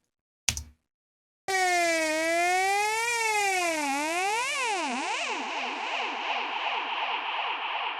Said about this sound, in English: Kind of a pumping upsweep and down.